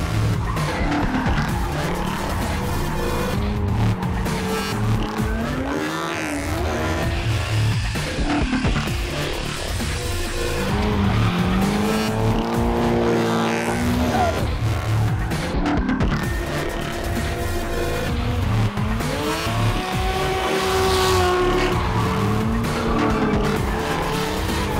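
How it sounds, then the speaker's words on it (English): Drift cars skid and squeal their tires continuously at a drift school circuit in Australia, loud sustained screeching with wavering pitch over constant engine roar, no talk. "ride shotgun with some of the country's best drifters inside some of the wildest drift machines."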